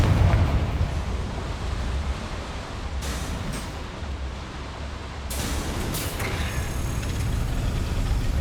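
Bombarda and Confringo spells in Hogwarts Legacy go off as two separate blasts, each a sudden bright crack with a roaring rumble after it, over a steady low background roar.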